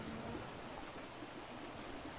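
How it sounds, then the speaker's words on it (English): Rain falls steadily on a radar dish in Grand Theft Auto V, a continuous, even hiss of dense drumming with no breaks and no voices over it. "I think that's just the rain coming down on the radar dish."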